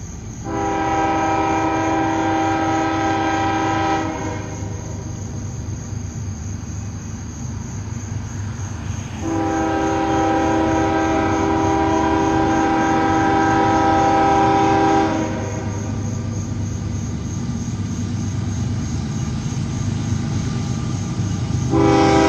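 A southbound empty grain freight train, over 12,000 feet long, passes on the Wilmington subdivision at Pembroke, North Carolina. Its horn sounds long, loud blasts over a continuous heavy rolling rumble.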